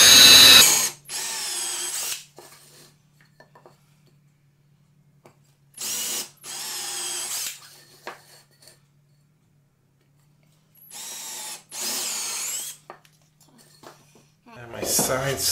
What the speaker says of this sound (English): So I'm using a 1/8 inch bit. And I'm drilling about 1/4 inch into to the wood.